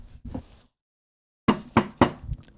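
Knocking on a door: a pair of raps, a pause, then a firm series of four loud, close knocks in a steady rhythm.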